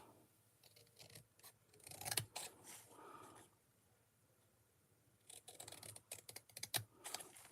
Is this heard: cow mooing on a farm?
no